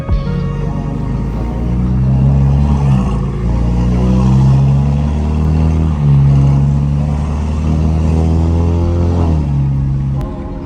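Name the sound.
car engine revving while driving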